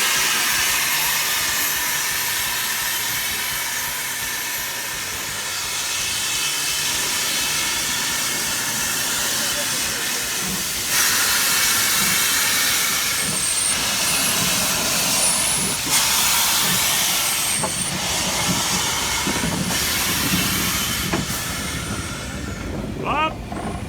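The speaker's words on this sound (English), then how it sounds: "This steam engine was active until 1975 in France." A French steam locomotive, in service until 1975, gives off a continuous loud hiss of steam for a long stretch, with rumbling underneath and a few faint high squeals breaking through.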